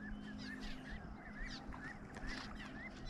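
A family of about five geese honking near a river, repeated nasal honks in loose succession over a steady background hum, moderately distant and not loud, with no talking.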